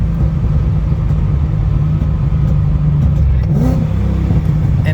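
A Ford Mustang with a stage 3 transmission accelerates under cruise control and rev-matches a downshift, giving a loud, close, steady engine rumble with a brief rise in pitch partway through.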